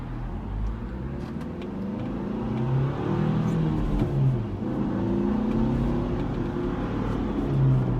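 A car set to sport mode gives a steady, sustained engine hum that swells slightly as it revs, heard close and continuous with no talking.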